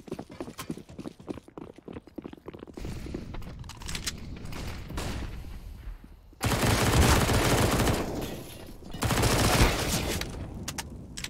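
SMG fire in a CS:GO match between OpTic and Heroic on Nuke comes as loud, rapid bursts that swell into sustained volleys, with quick clattering footsteps underneath.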